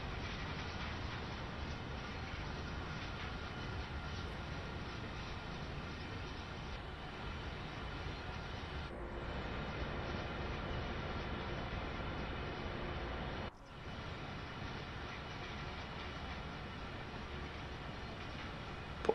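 A DB G6 shunter locomotive in Train Sim World 2 coasts with the power off, giving a steady, loud rumble of rolling wheels and running gear that holds nearly unbroken for the full stretch, with one brief dip near the end.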